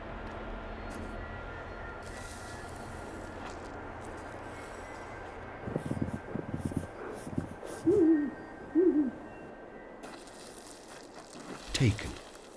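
Owl in icy snow gives a few short hoots in the second half, spaced a second or so apart, over a steady wind-like rumble and hiss in a cold outdoor setting.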